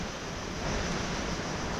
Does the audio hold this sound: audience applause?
no